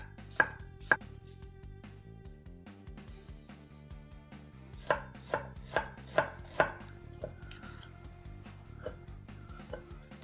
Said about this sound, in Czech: Tu cibuli nakrájí tak na středně hrubo,